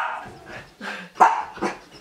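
A pet dog at home gives a few short, close barks and yips in quick succession, sharp and loud with brief gaps between them.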